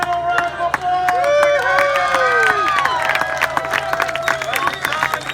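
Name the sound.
crowd applause at a bamboo boat race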